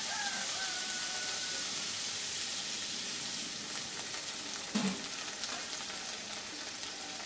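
Water splashed into a pan of frying butter paneer masala, a steady hissing sizzle that briefly flares with a louder bubbling burst midway, then settles back into an even crackle, close and soft, with no talking.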